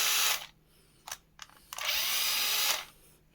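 Old cordless 18V drill screwdriver with a worn-out battery, spinning up in short bursts: a brief whir, two quick blips, then a longer steady run, close and fairly quiet.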